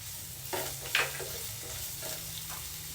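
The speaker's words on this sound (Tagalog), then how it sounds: "pagkatapos natin igisa yung bawang at sibuyas" Garlic and onion sauté in a pan with a soft, steady sizzle. A few brief stirring scrapes stand out, and the whole sound stays fairly quiet.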